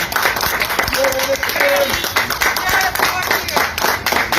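Crowd clapping and cheering at a police officers' protest over unpaid wages as officials arrive, a dense continuous wash of applause and shouting with some voices mixed in.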